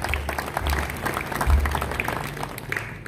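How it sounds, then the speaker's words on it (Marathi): Sustained applause from an audience at a Marathi lecture series, a dense even wash of clapping hands from a seated crowd with faint voices mixed in. "याच्यासाठी आपण जोरदार सर्वांनी पहिल्यांदा टाळ्या वाजवूया."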